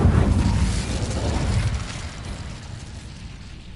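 An Incendio fire spell in a video game goes off as a loud, roaring blast that slowly fades into a sustained rumble, with no talking over it.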